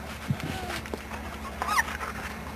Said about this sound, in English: The Squeamimis are Ebony's pups.